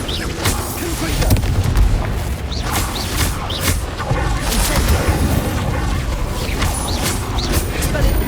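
Confringo blast spells explode in the Hogwarts Legacy video game, with repeated booming impacts and crackling bursts over a dense, continuous game soundscape with spoken spell calls.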